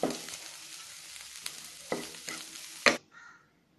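Egg and peas fry is stirred in a hot pan, a soft sizzle broken by several sharp scraping knocks of the spoon against the pan, the last knock loudest before the sound cuts to near quiet, with no speech.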